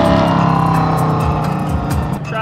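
Ford Mustangs drive past at close range with a loud, throaty engine roar that stays steady, with faint voices barely audible under the traffic noise.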